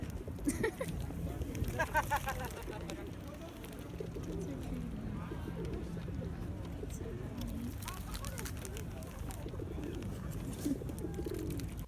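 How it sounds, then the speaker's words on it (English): Pigeons coo in low, soft, rolling calls in Hyde Park, London, set against steady outdoor ambience and scattered background noise. "Lots of pigeons."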